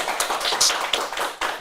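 An audience applauds at an interview with the governor of North Maluku, a brief burst of dense, close hand clapping with no talk over it.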